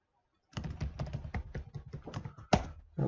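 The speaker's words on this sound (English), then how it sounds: "So just type my user ID here and the credentials." Someone typing a user ID on a computer keyboard: a short burst of close, rapid key clicks after a moment of silence, ending with a heavier keystroke and a final tap.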